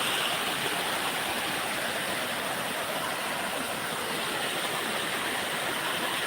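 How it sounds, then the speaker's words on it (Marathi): Heavy rain-fed water pours and rushes in a dense, unbroken roar, loud and close throughout with no pauses or voices. "पाणी किती पडतंय पा"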